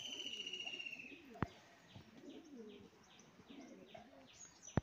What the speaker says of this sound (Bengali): ওই পায়রাটারই এটা নর পায়রা